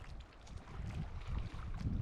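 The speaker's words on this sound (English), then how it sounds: "It is a bit windy out here." Low, rumbling wind buffets the microphone in uneven gusts near Yost and Fern Lake in the Sierra Nevada, Inyo National Forest, swelling and easing over a couple of seconds, with no voices present.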